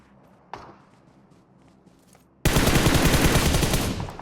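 Automatic gunfire in a battle royale game: after faint scattered noises and a single distant shot, a loud sustained burst of rapid fire breaks out and continues to the end.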